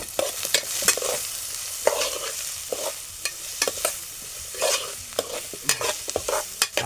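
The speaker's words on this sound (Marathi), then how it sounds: "आपण आता हे परतून घेऊ." Chopped onion sautéing in a pan, sizzling steadily with repeated sharp scrapes and clinks of a spoon stirring it, close and moderately loud, no voices.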